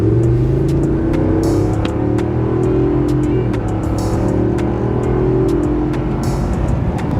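A 2022 Ford F-350 Platinum Tremor pickup on aftermarket wheels accelerates with a loud, steady low engine drone heard from inside the cab, tones climbing gradually through the gears alongside road rumble.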